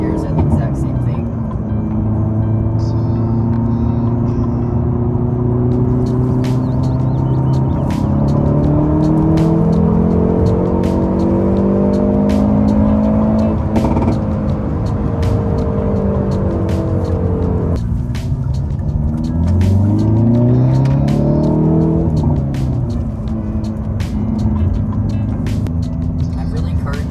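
A manual transmission car's engine revs up to about 5,000 rpm, the loud, close tone climbing steadily before dropping at each gear shift and climbing again.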